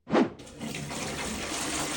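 Water gushes from a tap, starting with a short splashy burst and then settling into a steady, close rush of running flow.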